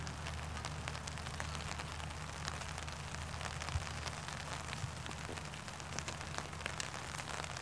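Rain falling on a disc golf course, a steady fine patter of drops hitting the ground and foliage with a low background rumble, continuous and faint, with no talk.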